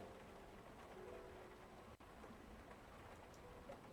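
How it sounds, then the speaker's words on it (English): Steady, noisy video game rain hisses continuously with a brief dropout midway; a soft, even wash of rain with no voices. "Listening to the noisy, pounding rain"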